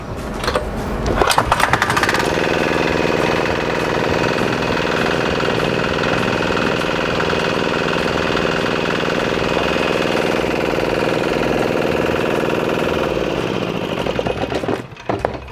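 A Kawama 500D diesel engine fitted with an electric starter cranks and fires, then settles into a loud, steady running drone that holds for about twelve seconds before cutting off abruptly.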